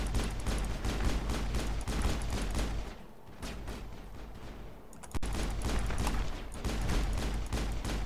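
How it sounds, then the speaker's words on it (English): Rapid bursts of gunfire from a Mass Effect firefight fill the scene, dense overlapping shots with a brief lull midway before the shooting resumes loud and close. "Ah, I'm being shot at!"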